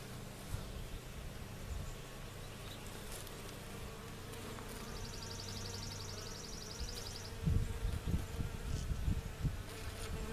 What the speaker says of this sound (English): we have lots of honeybees here